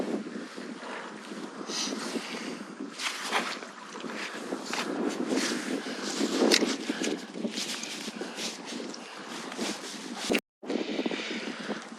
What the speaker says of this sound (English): So that's the wind picking up.